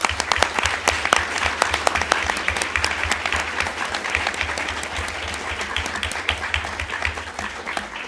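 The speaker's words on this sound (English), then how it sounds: "that deserves applause from everyone" A debate audience applauds at length, the clapping steady and dense from a large crowd with a few sharper close claps standing out, continuing evenly without speech for about eight seconds.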